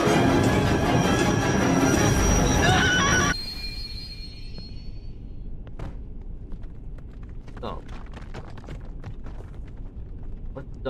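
Shinkansen bullet train in a looping-train video game, heard first as a loud, dense roar of the running train that cuts off abruptly into quieter rumble with scattered clicks and knocks.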